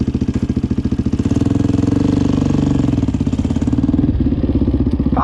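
A KTM supermoto motorcycle engine runs close by, loud and steady, with a rapid, throbbing single-cylinder pulse that swells slightly midway and holds until the end, with no talking.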